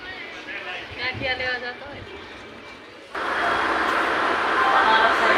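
Voices chatter inside a train bound for Veraval, then a louder steady rumble and rush of the moving train takes over for the last couple of seconds.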